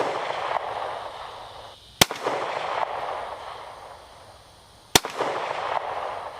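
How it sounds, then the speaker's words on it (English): A Smith & Wesson SW40VE handgun fires two sharp, loud shots about three seconds apart outdoors, each crack followed by a short fading echo over a steady background hiss. "Okay, I got a couple of shots off there"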